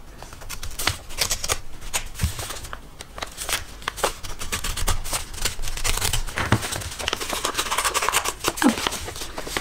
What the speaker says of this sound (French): Donc j'ai reçu une jolie enveloppe comme ceci. Donc je vais l'ouvrir.